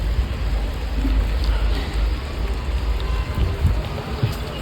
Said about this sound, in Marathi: जवळजवळ चांगलाच पाऊस चालू आहे.